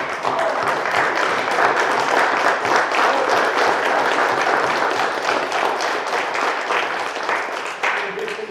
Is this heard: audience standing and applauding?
yes